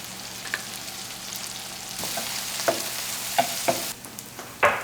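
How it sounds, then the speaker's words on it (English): Mushrooms sauté in butter in a large skillet, giving a steady close sizzle with scattered scrapes and clicks of stirring, and a louder spatula knock near the end. "In a large skillet, heat up 4 tablespoons of butter and saute your mushrooms until browned."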